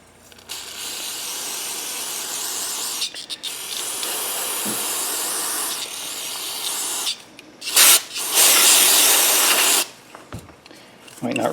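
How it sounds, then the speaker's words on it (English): SuperTech carburetor and air intake cleaner hisses from an aerosol can in several long, loud bursts with short pauses between, aimed at the carburetor of an old lawnmower being restored. "Now I'm using carburetor and air intake cleaner SuperTech."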